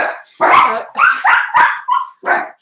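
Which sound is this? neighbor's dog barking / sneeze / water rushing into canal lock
neighbor's dog barking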